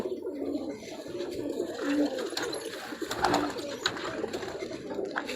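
Pigeons coo continuously nearby, soft rounded calls overlapping in a steady murmur from a loft of coloured pigeons, with a few louder coos rising above the flock.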